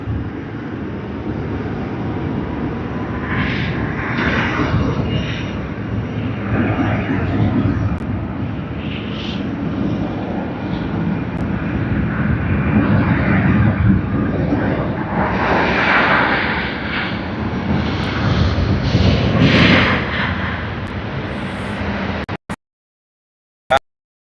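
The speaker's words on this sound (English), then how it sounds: "we are capturing the departure of QF67 to Bengaluru" Qantas QF67 jet airliner departing Sydney Airport for Bengaluru, a loud sustained engine roar that swells and rumbles for about twenty seconds before cutting off abruptly.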